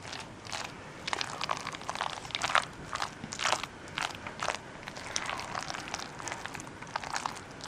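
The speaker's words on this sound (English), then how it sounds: "mix gently with a spatula until it's combined" A moist crab cake mixture is folded gently with a spatula, giving soft, irregular squelching and scraping strokes close by at low volume.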